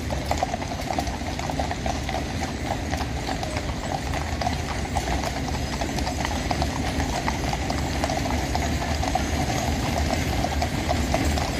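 Horses' hooves clip-clop steadily at a Trooping the Colour rehearsal on the Mall, a dense continuous clatter of many hooves over a loud, busy outdoor crowd and traffic background.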